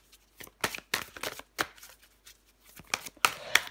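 Tarot cards drawn and handled from a deck: a run of crisp, close paper flicks and slides, several quick snaps in irregular rhythm with brief pauses between them.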